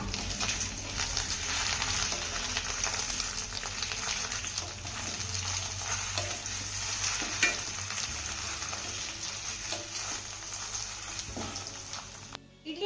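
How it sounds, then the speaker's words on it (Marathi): Mini idlis stirred into a hot sesame tempering in a pan: a steady hiss and crackle of frying with soft scraping stirs, continuous throughout. "इडली छान अशी मिक्स करून घेऊया"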